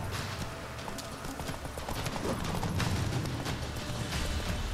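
Rapid hoofbeats of a galloping horse in The Witcher 3 clatter steadily over a dense background of noise and scattered impacts during mounted combat.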